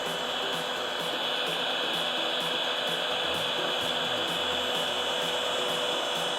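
A battery-powered heat gun blows steadily while heating vinyl wrap on a van, giving a constant, even whirring hiss with no change in pitch, fairly quiet and close, with no talking.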